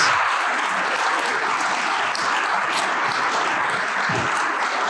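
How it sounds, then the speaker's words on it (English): An audience at a service design award ceremony applauds steadily, a dense, even wash of many hands clapping throughout, with almost no speech. "So well done, big applause."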